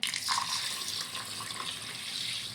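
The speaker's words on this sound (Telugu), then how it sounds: "ఇందులోకి సరిపడా వాటర్ పోసుకోవాలి." Water poured into a bowl of mixed millets set to soak for idli batter, a steady close splashing pour heard alone.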